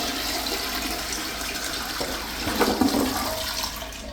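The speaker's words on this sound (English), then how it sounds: "Here's a flush." A Vortens toilet flushes close by, with a rushing swirl of water that swells about halfway through and then drains on without any voices.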